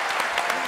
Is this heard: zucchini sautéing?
no